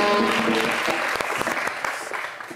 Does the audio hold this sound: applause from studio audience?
yes